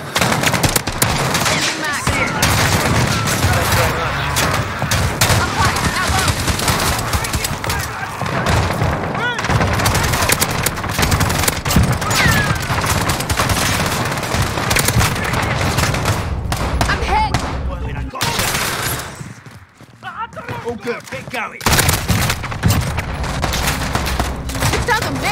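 Sustained automatic gunfire in the Call of Duty Modern Warfare video game, playing during the Operation Crosswind Spec Ops co-op mission. Dense bursts roll almost continuously with a short lull near the end, mixed with explosions and radio chatter.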